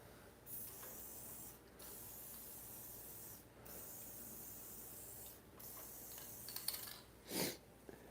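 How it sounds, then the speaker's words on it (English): An aerosol spray can hisses in several separate bursts of a second or two each, close and clear, as lubricant is sprayed onto the moving parts of equipment ahead of a snow storm, with quiet gaps between bursts and no talking. "Pretty much all your moving parts you want to try to spray."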